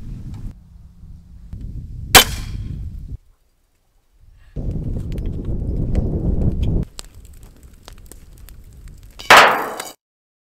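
Crossbow shot fired at a gender reveal balloon a couple hundred yards off: a sharp snap near two seconds, wind and handling noise, then a loud burst near the end that trails off.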